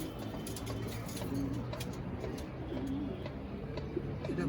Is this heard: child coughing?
no